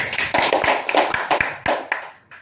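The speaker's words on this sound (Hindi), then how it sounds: "एक बार ताली हो जाए" Applause from an audience at a training event, a run of dense, sharp claps rising and falling across a couple of seconds, close and loud with no talking.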